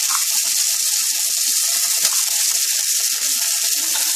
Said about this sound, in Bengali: টমেটো কুচোটা দিয়ে দিলাম, আদা বাটা দিয়ে দিলাম।